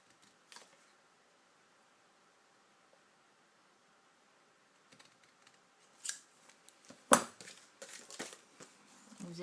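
Scissors cut paper for a Christmas pop-up card: near silence at first, then a close run of crisp snips and rustles in the last few seconds.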